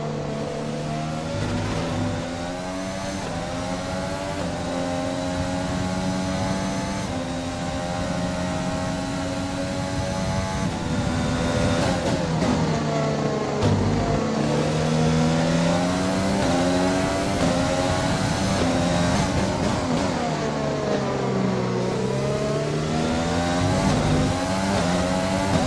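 A Formula 1 race car in the F1 2020 video game holds its engine at max revs during the Spanish Grand Prix: a loud, continuous, high-pitched whine that rises and dips with gear changes throughout, with no talking.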